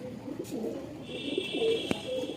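A low flyer pigeon coos softly in low repeated notes while being handled in a loft, with a faint rustle and a sharp brief click partway through.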